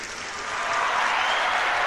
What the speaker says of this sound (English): I do have an applause.